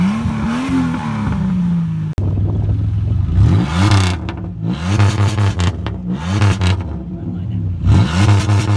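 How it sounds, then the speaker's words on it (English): A car exhaust with a fault revs repeatedly in loud, rough surges, rising and falling close by, with voices talking over parts of it. "This right here is what your exhaust is not supposed to sound like."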